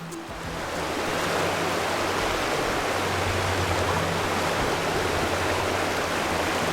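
A monsoon-fed stream in the Western Ghats of Goa rushes steadily, a dense, even roar of flowing water that stays loud and close throughout, with no voices.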